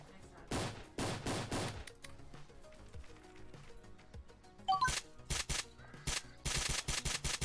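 Bursts of rapid automatic gunfire from Roblox's Island Royale game crackle in short loud volleys, separated by quieter gaps with scattered shots and small effects, and a player's voice briefly heard between bursts.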